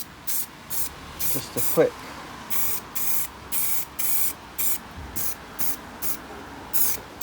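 Spray can of etch primer sprayed onto a Ford Transit Mk5 van panel being restored, a run of short hissing bursts repeating steadily, close and loud, with a brief spoken remark partway through.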